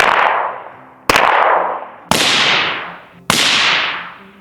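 Four suppressed gunshots fire one after another about a second apart, each a sharp loud crack that trails off into a decaying hiss, with no voices.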